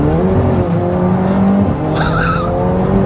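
A McLaren 720S supercar driven hard, its engine droning loud and close while the tires squeal briefly in a rising screech toward the end.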